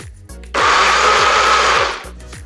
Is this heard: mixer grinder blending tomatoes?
yes